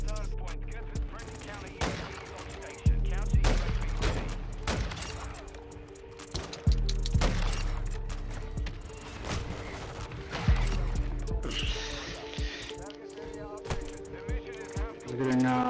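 Marksman rifle fire in Call of Duty MW2, sharp booming shots at irregular intervals with scattered rapid bursts and explosions, moderately loud and mixed with game sounds and brief talk.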